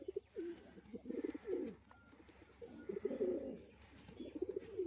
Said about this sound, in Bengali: আজকের পায়রা কিন্তু প্রত্যেকটা অ্যাক্টিভ পায়রা